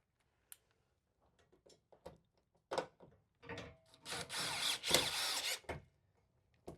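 A power drill drives a self-tapping screw into a Sprinter van's roof, with a few scattered taps and scrapes first, then a loud, close whirring grind lasting about two seconds before stopping.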